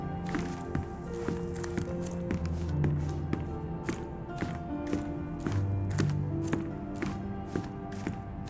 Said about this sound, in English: I heard footsteps upstairs a second ago.